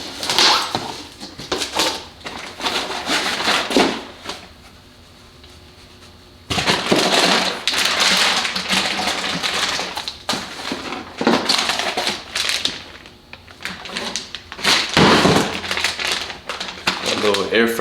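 Mishimoto coolant expansion tank being unpacked from its packaging, with close crinkling, rustling and crushing of wrapping in bursts, a quieter pause near the middle, and someone talking at times.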